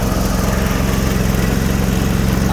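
A Sears Suburban snowblower with a 20HP Briggs V-twin engine runs steadily at about half throttle in deep snow, a loud, close, even drone with a constant low rumble and no talk.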